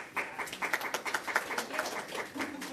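Steady rhythmic hand clapping from a few people at a community business grants workshop held at a Hmong village, moderately quiet with faint room tone underneath.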